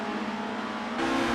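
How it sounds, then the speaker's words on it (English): Racing car engines in the Assetto Corsa video game, a continuous droning roar that steps up in pitch and loudness partway through as the engine revs higher. "these engines do have a roar that could rival any muscle car back home"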